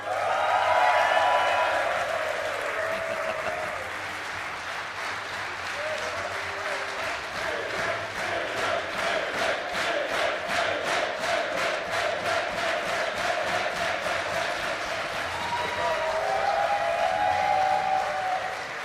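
Sustained applause from a large crowd at a live esports tournament in Hamburg as a series champion is announced, steady and dense clapping that holds throughout with a slight swell near the end.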